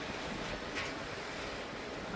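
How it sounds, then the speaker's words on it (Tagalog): Strong wind on a windy morning in Regina, Saskatchewan, roars steadily as broadband gusty noise buffeting the microphone, fairly faint and continuous throughout. "Malakas ang hangin."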